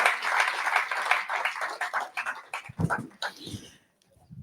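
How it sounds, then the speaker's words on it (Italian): An Italian audience applauds for Sardinia in a short burst of dense clapping that thins out and fades to quiet within a few seconds. "Un applauso alla Sardegna, perché ci regala tante gioie."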